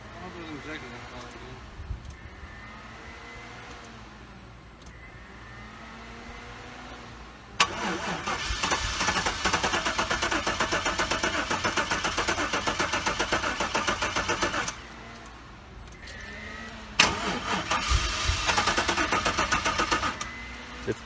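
A fuel-injected car engine cranks hard and tries to catch, with two long, loud churning stretches of starter grind. A short quieter gap sits between them, and people talk in the quieter parts.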